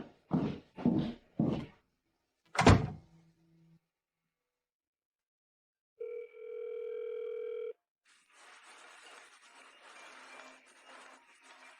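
Telephone call being placed: several heavy knocks or thuds, a short pause, then a steady dial tone lasting under two seconds, followed by a softer, noisy hiss.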